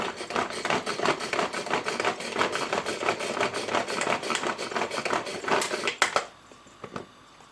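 A kitchen chopper or blender purees a tomato mixture in short, uneven whirring bursts with grinding texture, then stops near the end, leaving small clatters.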